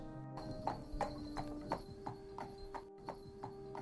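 A horse's hooves clip-clop at a steady pace as it rides off, one whinny in the mix, under a soft humming music bed in a Cinderella audiobook.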